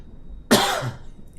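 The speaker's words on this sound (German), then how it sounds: "Moment, kurz husten." A single sharp cough bursts out close to the microphone, loud and abrupt, then trails off into quiet.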